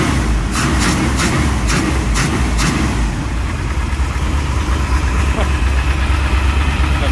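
A 1966 Chevy Nova Wagon engine running on its first drive, a loud close steady drone with rumbling low end and a few rhythmic ticks early on; a voice speaks over it.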